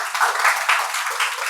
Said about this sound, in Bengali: ওর জন্য একটা হাততালি হবে।